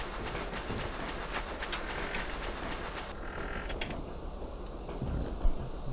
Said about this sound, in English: Just enough space for the train to get through.